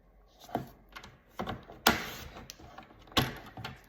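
Designer Series paper is cut to measured widths on a trimmer, heard as quiet close snips and sharp clicks in an irregular rhythm, a few louder slicing strokes among softer taps.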